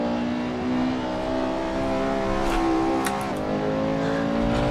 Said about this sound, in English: That was a full-on drift.